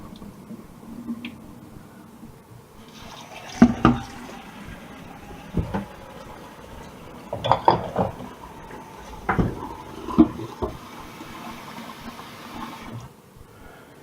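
Rice being washed by hand in water for plain boiled rice, with splashing, squishing and clinks of a pot or bowl, the loudest swishes bunched into a few bursts over a steady background.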